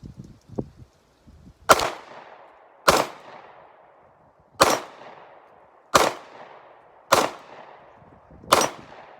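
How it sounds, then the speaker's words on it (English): Six sharp gunshots from another shooter at a range ring out at regular intervals, each followed by a rolling echo, with a few fainter pops just before them. "You can hear somebody else shooting."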